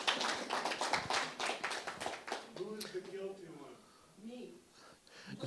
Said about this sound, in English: Big round of applause for Trina.